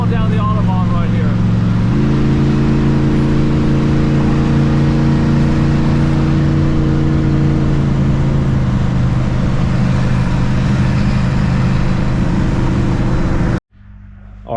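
A car cruises along the Autobahn with a window open, its engine droning steadily under a broad wash of wind and road noise, the pitch shifting partway through before the sound cuts off abruptly near the end.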